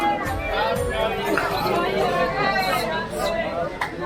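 A crowd chatters along the road leading to a temple in Vrindavan, a steady, dense babble of many voices filling the scene at close to middle distance, with footsteps and bustle mixed in.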